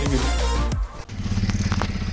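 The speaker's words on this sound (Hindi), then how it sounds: "फिलहाल बाइक स्टार्ट की है, वार्म अप करते हैं इसका" A motorcycle engine catches after a brief cranking clatter, then settles into a close, even, pulsing idle as it warms up, with no talk over it.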